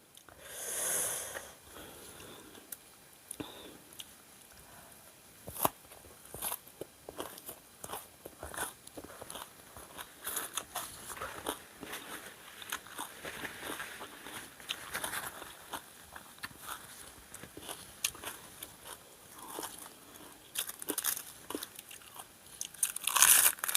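Crunchy, wet chewing of spicy squid larb eaten with fresh, crisp raw vegetables, close and continuous, with frequent bites and crunches over about twenty seconds and no talking.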